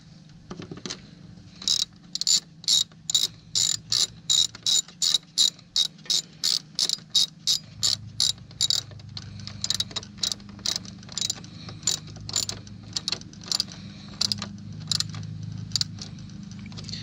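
Rapid ratchet wrench clicks tightening cooling fan bolts on a Kia Sedona, coming in close, loud, regular bursts with brief pauses between strokes, no talking.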